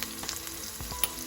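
Pink Himalayan salt sizzles in a hot pot, a quiet crackling hiss with a few small pops over about a second and a half.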